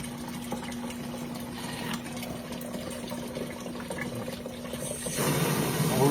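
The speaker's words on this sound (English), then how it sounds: "I'm going to siphon this last one and get a perpetual flow of water" Water siphoned into a watering pot, a thin steady trickle and gurgle of flowing liquid that grows fuller and louder near the end as the pot fills.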